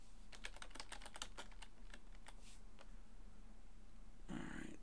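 Rapid clicking of keys on a computer keyboard in quick irregular bursts, close and fairly loud, tapering off with a few scattered taps, over a steady low hum and no talking.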